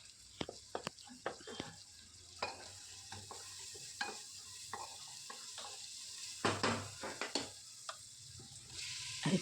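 Curry leaves and five or six green chillies fry in hot oil while being stirred, with a low sizzle broken by frequent spoon clinks and scrapes against the pan.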